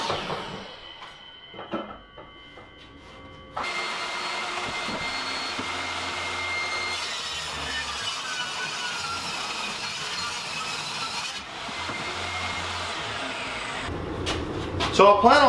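A power saw rips a wooden board during a homemade RV build in a 1977 Peterbilt 359 toterhome, a loud steady whine running about eight seconds, with quieter handling noises before and after.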